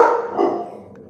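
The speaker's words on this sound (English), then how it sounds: "y'all excuse my dog." A pet dog barks indoors during a live home chat, one loud close bark followed by a second weaker bark and a fading tail, with no talking.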